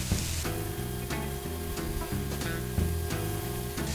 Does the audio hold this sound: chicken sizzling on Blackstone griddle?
yes